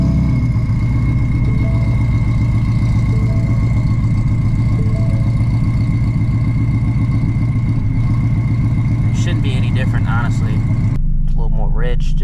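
A supercharged Ford Mustang GT350 runs on race fuel with a loud, steady engine rumble close by, holding a continuous idle before a brief change near the end while someone talks over it.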